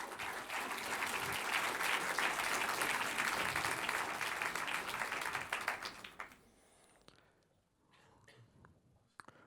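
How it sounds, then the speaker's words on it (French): An audience applauds award winners at a design section ceremony, dense, fairly close clapping for about six seconds that fades out, leaving quiet murmuring and a few soft knocks. "Donc je propose qu'on les applaudisse"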